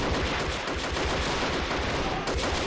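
Sustained automatic gunfire in the strategy video game Army Men of War as green army men fire into grass, a steady rattling stream of overlapping shots with no talk over it.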